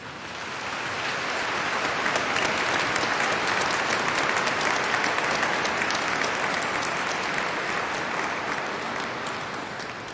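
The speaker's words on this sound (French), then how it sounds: "On peut les applaudir tellement ils chantent bien." A congregation at a Mass in a large church applauds a Filipino choir, dense sustained clapping that swells in, holds evenly for several seconds, then fades slightly at the end.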